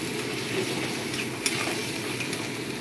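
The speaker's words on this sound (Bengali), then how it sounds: "আমি এখানে সামান্য জল দিয়ে এটাকে কষাবো।" Spices sauté in a pan with a little water added for okra kausa, giving a steady, close sizzling hiss with light stirring scrapes throughout.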